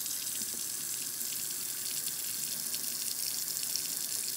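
Water from a tap splashes steadily into a wine glass as it is rinsed out during home winemaking, a close, continuous bright gush with faint sloshing.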